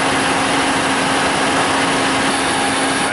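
Ford Focus (1999-2007) idling with the A/C compressor running during an R-134a recharge, a loud, steady, close engine drone with a constant whine and no talking.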